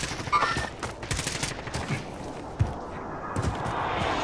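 Gunfire rings out in a Call of Duty Warzone match as snipers keep shooting: several sharp cracks and bursts scattered over a few seconds, one loud shot standing out among busier background game noise.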